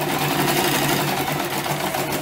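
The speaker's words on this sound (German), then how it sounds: "nähen uns das erste Stück bis zur nächsten Nadel schön rum" A domestic sewing machine stitches fabric for a cushion cover, running steadily at high speed with a loud, even mechanical whir and rapid needle rhythm throughout, no voices.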